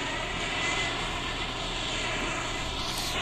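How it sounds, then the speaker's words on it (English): An F-14 fighter jet in a flight game roars at full power, a dense, loud and continuous engine rumble with a hissing upper edge, steady throughout with no voices. "This is a fighter jet."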